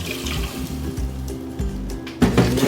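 Two cups of water poured into a hot pan of onion and garlic, a steady splashing fill with a louder sizzling burst near the end, close and alone.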